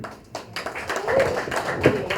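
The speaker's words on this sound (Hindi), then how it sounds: "अविनाश के लिए और जोर से ताली प्लीज" Audience at a trailer launch for the show Pyaar Se Bandhe Rishte clapping for Avinash, a brief spread of claps and taps rising in the middle, with some voices mixed in underneath.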